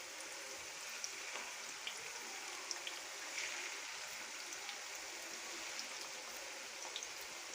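Meatballs (kofta) fry gently in oil, a steady, faint, even hiss of sizzling with scattered tiny pops throughout, no voices.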